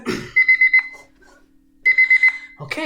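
Two bursts of rapid electronic beeping, a timer alarm ringing in quick pulses, separated by a short pause; fairly loud and close.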